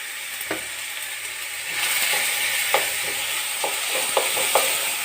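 Ridge gourd pieces with turmeric sizzle steadily in an oiled pan with no tempering, a continuous hiss that swells slightly midway, dotted with sharp spatula scrapes and pops.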